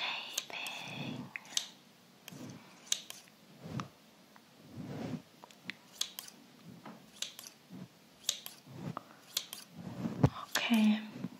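Scissors snipping a man's beard hair in a barbershop, soft close crisp clicks in irregular bursts, quiet and intimate, with faint whispered speech and rustling between cuts.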